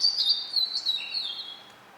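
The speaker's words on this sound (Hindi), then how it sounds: "मुझे तो उस चिड़िया का भी नाम मालूम है, जो बाहर चहक रही है।" A small bird chirps and tweets outside in quick, high, continuous twittering for about two seconds, clear and fairly close, with no talk.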